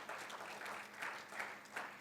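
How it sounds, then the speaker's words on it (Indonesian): A church congregation claps in praise during a Sunday service, a steady, dense wash of applause that swells in small waves throughout. "tepuk tangan yang panjang bagi Tuhan Yesus"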